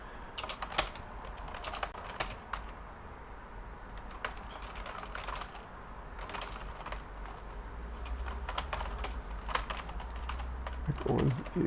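Computer keyboard typing in irregular bursts of sharp, close clicks, with pauses between runs of keystrokes and a low room hum underneath.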